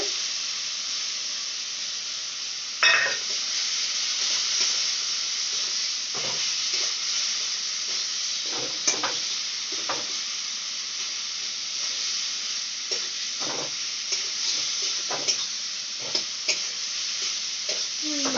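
Spice masala frying in oil for a vegetarian raw banana kofta curry, with a steady sizzle throughout and repeated scraping stir strokes at irregular intervals; no voices.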